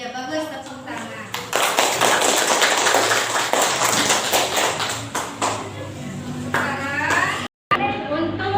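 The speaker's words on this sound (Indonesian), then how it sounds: "bagus, tepuk tangan" Schoolchildren in a classroom clap their hands together in a dense burst of applause lasting several seconds, with a teacher's voice heard before and after.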